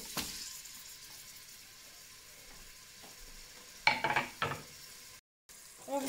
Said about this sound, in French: je viens ajouter mes oignons.